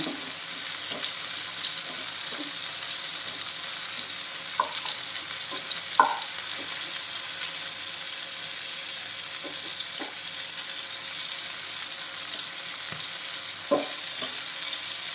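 Green chilies and garlic frying in a pan over a medium flame give a steady, soft sizzle with scattered small pops and faint stirring clicks, with no talking.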